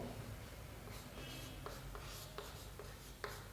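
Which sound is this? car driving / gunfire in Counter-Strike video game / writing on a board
writing on a board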